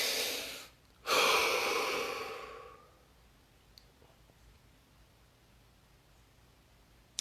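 Two deep breaths in the quiet, a short inhale followed by a long, loud exhale that fades into near silence.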